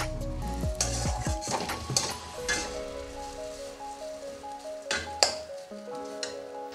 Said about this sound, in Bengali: যে চালটা আর গাজরটা ভাজছি না, খুব সুন্দর গন্ধ একটা বেরিয়েছে